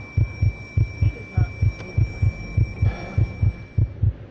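Heartbeat effect from the horror video game Conarium, a steady lub-dub thumping repeated about a dozen times, loud and close over a low ambient hum, with no speech.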